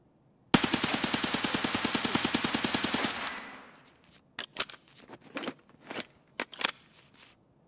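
Suppressed gunfire in the video game Escape From Tarkov: a loud, rapid automatic burst of muffled shots lasting about three seconds, then a few scattered clicks and handling sounds.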